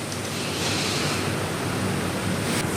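Water splashes and roars down the Anayadikuth waterfall in Thodupuzha, Kerala, a dense, even rush that fills the whole moment without a break.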